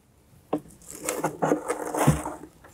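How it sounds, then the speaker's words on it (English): Polyfill is stuffed by hand into the rear speaker enclosure of a 2011-2018 Jeep Wrangler JK, making a close series of soft rustling, rubbing and scraping sounds in quick irregular bursts. "we're gonna go ahead and put our polyfill in"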